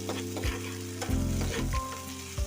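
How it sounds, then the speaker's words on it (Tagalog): Corned beef and tomatoes sizzling loudly in a hot pan, close and steady, with a few scraping stirs of a spatula and no voices. "Nilagay ko siya ng kamatis."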